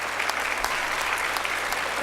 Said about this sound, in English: stand up and get a round of applause, please.